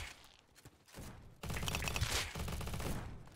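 Video game gunfire from Call of Duty, faint at first, then a sustained burst of rapid automatic shots that holds steady to the end.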